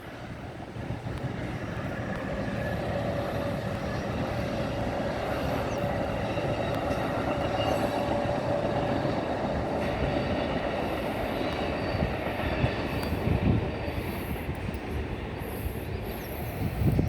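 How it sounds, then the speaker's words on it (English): Southbound Amtrak train 59, running from Chicago to New Orleans, rumbles past steadily for the whole stretch, a loud continuous roar of wheels on rail with faint squeals and rhythmic clatter building toward the end. "that's southbound Amtrak 59"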